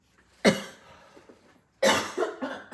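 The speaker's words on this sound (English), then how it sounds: "so sorry, I've had a bit of a cough lately." Two sharp, close coughs from an adult about a second apart, the second harsher and followed by a short rasping tail, with near silence between.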